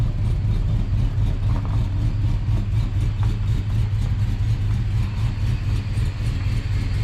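A car's engine idles through its exhaust with the muffler closed, giving a steady, deep, low rumble that holds constant and close throughout, with no revving or voices.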